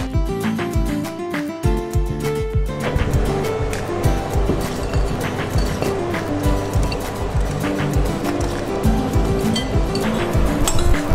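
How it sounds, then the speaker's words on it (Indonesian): Fried tofu with garlic is tossed and stirred in a bowl, producing a steady mass of crunchy rustling and light clinks, fairly loud and continuous, with music playing underneath. "Nah, kita aduk dulu."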